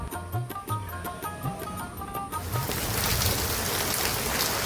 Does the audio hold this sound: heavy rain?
yes